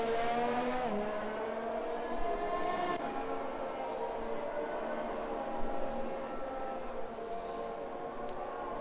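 A pack of race cars in a racing video game passing on the Circuit de Barcelona-Catalunya track, engines droning with sliding pitch as several cars sweep by, loud and continuous with no talk.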